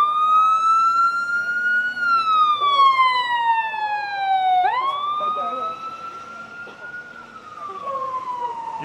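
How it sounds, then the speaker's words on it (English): An emergency vehicle siren wails loudly as it passes in the street, its pitch sweeping down and up in long cycles before fading slightly toward the end. "I don't want to yell at you over a siren"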